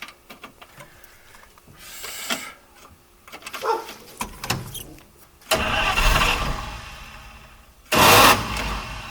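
A 1953 Oldsmobile Rocket Super 88 barn find turns over in bursts of cranking and sputtering, then catches into two loud, rough surges of engine running, close by.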